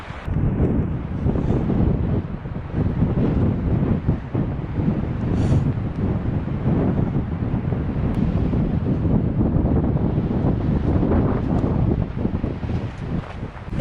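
Strong wind blowing across an open hiking trail on the Pacific Crest Trail, a steady loud roar buffeting the microphone for the whole stretch with no voices.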